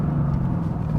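Engine of a 2016 Mercedes-AMG GT heard from inside the car on a test drive through corners, a close, steady low rumble and drone with no talking.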